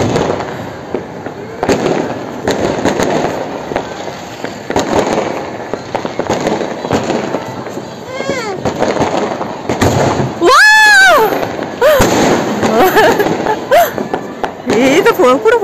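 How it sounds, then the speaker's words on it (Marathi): New Year firecrackers burst outside in scattered pops and bangs, some near and loud, with a whistling rocket rising midway, while people talk over the celebration. "फटाके कुठे फुटतेत?"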